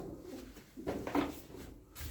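Tumbler pigeons held in a box give soft, low cooing, a brief murmured coo rising in the middle amid faint rustling, close by and quiet.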